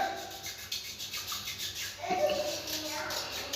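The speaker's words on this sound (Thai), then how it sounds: "เราลองเอาไม้ขูดดูก็จะ" A wooden stick scrapes loosened yellow stains from a toilet bowl that was soaked in vinegar and baking soda. The scraping rubs close and steady, scratching harder near the end.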